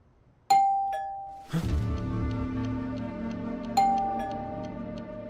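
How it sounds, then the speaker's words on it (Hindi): A doorbell chimes twice, clear ding-dong tones ringing out indoors with a resonant hum lingering between them. "अरे यार फ्रांसिस, कोई किलर तुझे मारने के लिए तेरी डोरबेल बजाएगा?"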